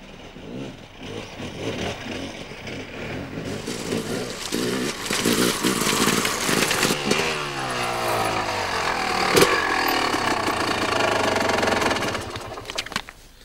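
An enduro motorcycle rides down a long, steep slope, its engine popping and rumbling unevenly at low revs, then droning more steadily with rising and falling pitch. Close and loud throughout, with occasional sharp knocks.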